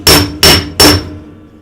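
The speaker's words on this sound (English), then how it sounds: "you got to be really deliberate about your hammering or the metal's just going to get hard" A hammer striking metal three times in a measured, deliberate rhythm, each blow a sharp loud clang with a short ringing decay, close up and without speech.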